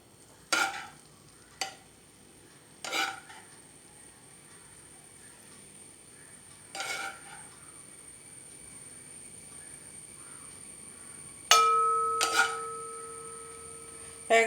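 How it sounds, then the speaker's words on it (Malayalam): Semolina (rava) dry-roasted and stirred in a hot pan for a chicken biryani, heard as a few short, soft scraping stir strokes spaced apart in a quiet room, with a thin steady tone near the end. "ഇതിലേക്ക് നമുക്ക് പകുതി റവ ചേർത്ത് കൊടുക്കാം."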